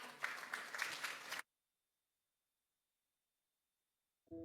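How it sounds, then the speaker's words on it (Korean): Audience applause at a Democratic Party 70th founding anniversary ceremony, a dense burst of many hands clapping for about a second and a half, then cutting to silence before a sound resumes at the end. "큰 박수로 맞이해 주시기 바랍니다"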